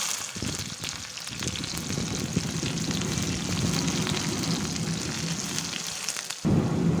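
Onion and chili frying in oil in a wok, a continuous close crackling sizzle that runs steadily throughout with a brief pause near the end, no voices over it.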